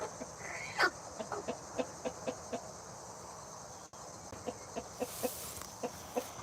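Chickens, including bantam roosters, cluck softly in a loose, repeating rhythm, close by, with faint insect chirping in the background.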